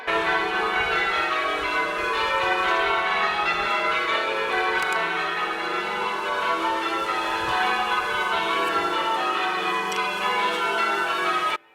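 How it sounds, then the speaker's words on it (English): Church bells of St Peter's Church, Woolton, Liverpool, ring continuously in a dense, overlapping peal, loud and close, with clanging strikes layered over a steady ringing wash. "You can hear the church bells behind me."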